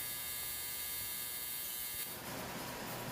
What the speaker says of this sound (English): This is the first welding pass.